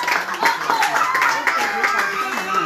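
Audience clapping at a cheque handover ceremony, a dense, steady patter of many hands that continues throughout, with voices mixed in underneath.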